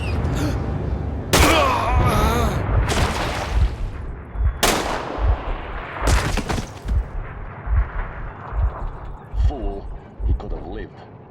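Rifle shots in the Metro video game, several sharp loud blasts cracking out at intervals amid clattering action, with voices talking between them.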